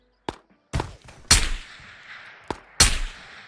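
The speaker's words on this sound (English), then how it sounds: "Guy's shooting me?" Gunfire in the video game Ghosts of Tabor: five sharp shots spaced unevenly over a few seconds, each with a short echoing tail, fairly close and otherwise in quiet.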